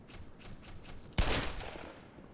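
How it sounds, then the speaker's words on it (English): A Magnum revolver fired in the Black Mesa video game, a single sharp loud shot with a ringing tail, preceded by faint rhythmic footsteps. "we'll just use the Magnum on them"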